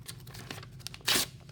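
Paper torn by hand into rough-edged pieces for a papier-mâché mask, a quiet rustle building to one louder, short tearing burst near the end, heard close up with no talking.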